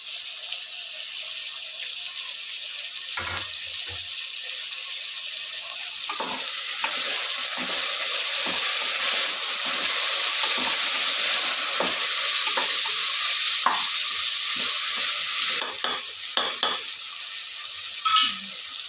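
Tomatoes frying with field beans in a pan, a steady hissing sizzle throughout, punctuated by spoon scrapes and stirring knocks, close and continuous without any speech.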